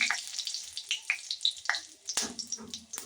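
Mustard seeds splutter and pop in hot oil for South Indian tomato rasam, a dense run of close, crackling bursts with a steady sizzle beneath.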